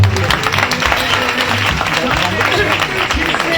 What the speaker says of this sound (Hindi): आइए जोरदार तालियां बजाइए करिए।